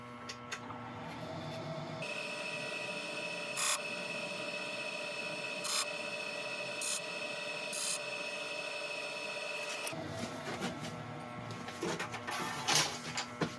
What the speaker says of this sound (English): I'm going to turn the lathe on slow